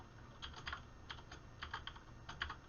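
Keys clatter on a computer keyboard in short quick bursts of typing separated by brief pauses, close and fairly quiet with no voices.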